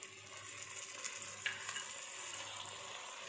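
Chopped garlic sautéing in a pan with soy sauce for egg fried rice, a faint, steady sizzle with a few soft spatula scrapes.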